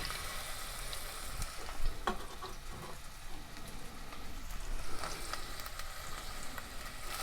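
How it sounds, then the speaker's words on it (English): Chopped onion and garlic frying in oil, giving a faint, steady crackling sizzle with scattered pops and light clatter throughout, no one speaking. "we're going to go ahead and move both the onion and the garlic into the oil"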